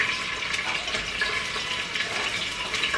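Onion dropped into very hot oil for a Nigerian beef stew, giving a steady, close, bright sizzle and crackle that holds for the whole stretch with no talking.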